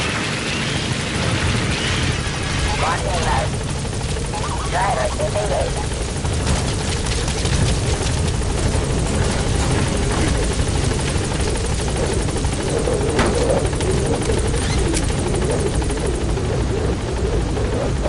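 The Pequod helicopter in Metal Gear Solid V roars continuously with a loud, dense rotor drone that holds steady from start to finish.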